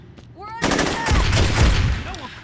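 Shotgun blasts and gunfire in the Saints Row 2 video game: a dense, loud burst of shots and impacts filling most of the clip after a brief quieter lead-in with a few tonal game sounds.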